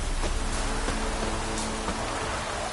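Light drizzling rain in the video game Witcher 3, a steady broadband patter with a few soft droplet taps, evenly loud throughout, with faint tonal game ambience underneath and no talk.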